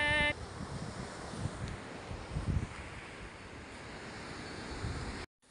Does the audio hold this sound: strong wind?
yes